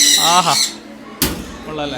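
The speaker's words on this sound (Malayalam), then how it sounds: "ഇത് പക്ഷികളുടെ സൗണ്ട് മാത്രം" Birds squawk and chirp inside a pet station in Kannur, bright repeated calls close by, mixed with people talking loudly over them and a sharp burst of noise midway.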